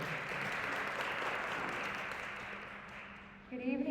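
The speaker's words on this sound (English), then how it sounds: "let's give her a round of applause" Audience applause for a moderator at a school board candidate forum, a steady, dense patter of clapping that fades slightly before a voice begins at the end.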